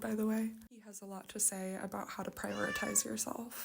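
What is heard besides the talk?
cat meowing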